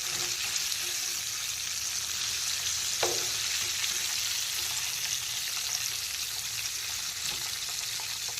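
Chicken drumsticks fry in deep oil with a loud, constant bubbling sizzle, broken once by a brief scrape as pieces are lifted out with a slotted spoon.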